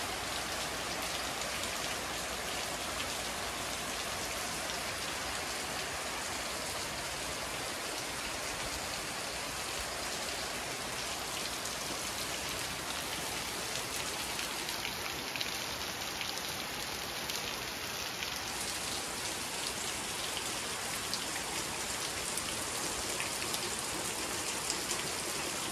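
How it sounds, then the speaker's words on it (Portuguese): Steady rain falls on a rural smallholding under heavy cloud, a dense, even hiss of drops on surfaces that continues unbroken and fairly loud with no voices. "Chuva agora pegou, gente."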